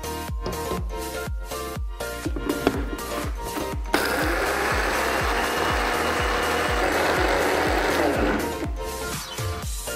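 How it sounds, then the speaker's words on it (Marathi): A kitchen mixer grinder runs with a rough, steady whir as it grinds soaked chana dal (split chickpeas), with sharp rhythmic clicks and knocks before and after the grinding. "ही हरभऱ्याची डाळ आहे ही आपल्याला मिक्सर मधून वाटून घ्यायची आहे"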